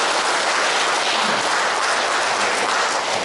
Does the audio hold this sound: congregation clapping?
yes